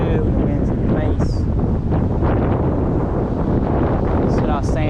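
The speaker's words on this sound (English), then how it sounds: "That's what I was saying about the wind gusting really heavily." Heavy wind gusts at a roadside creek during tenkara fly fishing buffet the microphone as a constant loud rumbling roar, with a voice faintly audible beneath it.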